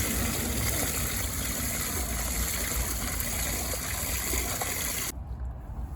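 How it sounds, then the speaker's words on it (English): Water splashing and trickling steadily in a garden as freshly picked produce is washed, a close, continuous wet rush that cuts off abruptly near the end. "the favourite part is playing with water to wash them"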